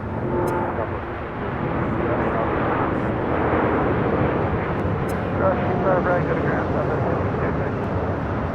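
A Boeing 787 Dreamliner airliner rolls down the runway at LAX, its engines producing a steady, loud, broadband roar that fills the whole stretch while people talk nearby.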